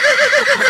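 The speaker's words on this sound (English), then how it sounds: "Chen rode the magical white horse swiftly, eager to reach the Sun Palace as soon as possible" A magical white horse in an animated Chinese folktale neighs in one loud, close whinny with a wavering, quivering pitch that runs through the whole short moment, with no talking over it.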